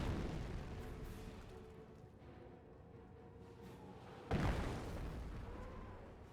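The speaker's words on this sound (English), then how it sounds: "Mortar firing away." A mortar thumps and its shells burst in a Company of Heroes battle, a low continuous rumble of combat with one sharp, heavier explosion late, all fairly distant and subdued.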